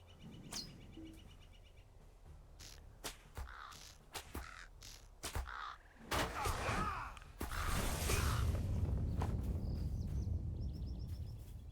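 A crow cawing in the Lone-Lands of the game Lord of the Rings Online, with several harsh caws and clicks scattered among whooshes and clanking effects, the background swelling louder near the end, with no one talking.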